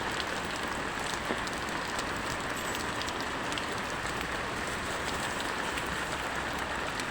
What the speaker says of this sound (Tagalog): walang tigil pa rin ang ulan